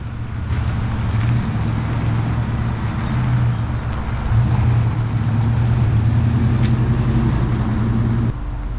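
A truck drives slowly around a yard just after an axle swap, its engine a steady low rumble that swells and eases slightly, close and continuous, with no talk.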